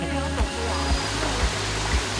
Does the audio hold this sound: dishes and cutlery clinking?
no